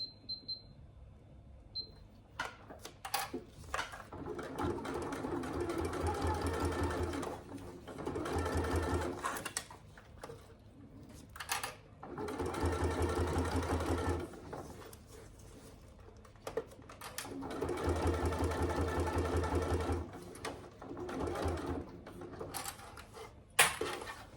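A sewing machine set to a longer stitch length sews a wash bag in five or six separate bursts of a few seconds each, with quiet gaps and small handling clicks between runs.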